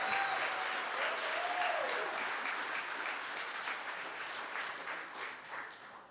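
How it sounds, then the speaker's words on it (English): An audience at an alumni association Black Hall of Fame ceremony applauds an honored class of 1963, a steady, dense roll of clapping from a large crowd with a brief rising whoop early on, gradually tapering off. "Can we cheer them on?"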